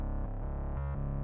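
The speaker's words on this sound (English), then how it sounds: "just the bass synth" A bass synth from a metalcore synthwave production plays solo, a brief run of low sustained notes that step through a few pitches, loud and close, with no voices.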